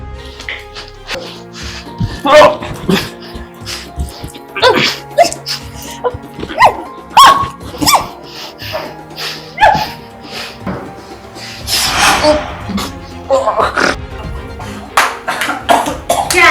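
A dog barks in short, repeated bursts spread across the stretch, close and fairly loud, with faint voices between the barks.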